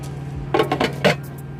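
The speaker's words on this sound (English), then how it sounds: "See, it's a Presto electric skillet." A Presto electric skillet being handled makes a short cluster of close metallic clinks and knocks over a steady low hum, three or four quick hits within about half a second.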